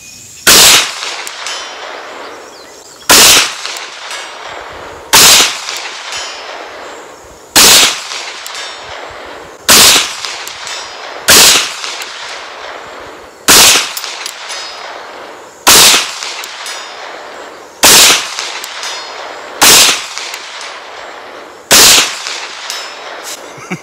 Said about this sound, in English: A 22 mag pistol at 200 yards.